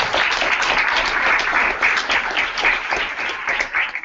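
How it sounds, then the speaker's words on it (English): Dense audience applause at a startup competition event, steady and full for about four seconds, many hands clapping at once, close and continuous. "please give a nice round of applause to Pivotal Labs."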